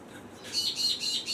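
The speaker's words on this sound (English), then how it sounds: "Oh, bloody birds around here." Local wild birds chirp in a rapid series of high, bright tweets, repeating in bursts over a low background hiss.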